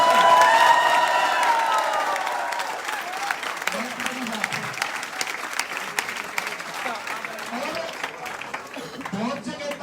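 An audience at a song launch event in Sonipat bursts into loud applause and cheering that slowly thins out into scattered clapping, with voices shouting over the crowd noise.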